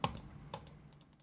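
A voice imitates fast keyboard clicking and typing, a quick burst of short sharp clicks, close and fairly faint, with nothing else heard.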